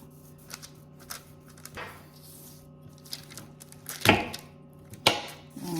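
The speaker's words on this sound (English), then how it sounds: "I'm just slicing it down, just like that" A knife slices a slab of chocolate bark into pieces with scattered crisp cuts and snaps, a few quiet, then two louder cracking chops near the end, close up with no talk.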